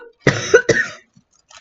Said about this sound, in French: J'ai toussé sans faire exprès.